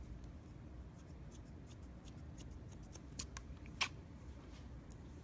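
Scissors snip at hair in quick, deep point cuts during a women's short haircut, faint crisp clicks scattered irregularly over a soft background hiss, with a couple of sharper snips.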